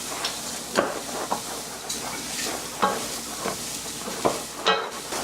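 Greens stirred in butter in a pan for mushroom risotto, giving a steady soft sizzle with scraping stir strokes at irregular intervals, close and moderately quiet, with no talk.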